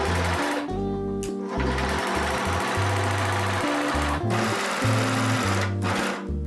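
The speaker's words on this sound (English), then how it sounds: "I prepared the waist tie by sewing the ends" A sewing machine stitches the ends of a fabric waist tie being made from a dress. The motor runs in repeated close, loud bursts separated by short pauses. Nobody speaks.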